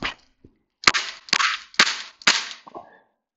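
An Umarex XBG BB launcher fires five sharp, snappy shots, each with a short metallic ring, spaced roughly half a second apart and heard close up with no talking.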